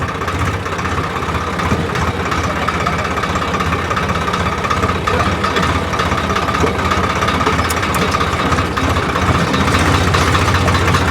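A tractor engine idles close by for the whole stretch, a constant low rumble with a faint knocking chug and no voices.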